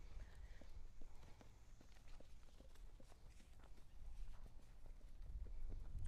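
Horses walk nearby, their hooves clip-clopping in an irregular, ongoing series of soft thuds alongside a faint low rumble of movement and outdoor ambience, no voices.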